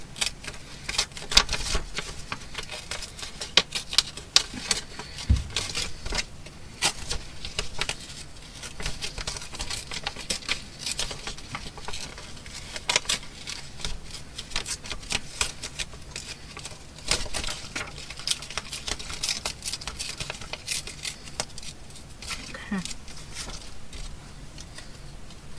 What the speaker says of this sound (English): I'm going to do kind of a bit of a close and sort of careful tear around this leafy bit